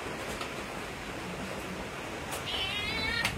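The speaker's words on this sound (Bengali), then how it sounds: "বিড়ালে ঠান্ডা মনে হয় বেশি, সব সময় থাকে চুলার পাশে।" A cat sits by a warm kitchen stove and gives a soft, short meow near the end, quiet against low room hiss, with faint fainter calls earlier.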